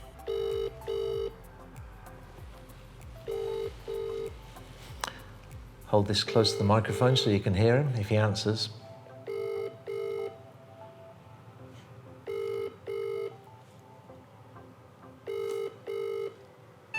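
WhatsApp call ringing out through a phone's loudspeaker, with repeated paired ring tones in a steady pattern on both sides of a short stretch of talk by a man.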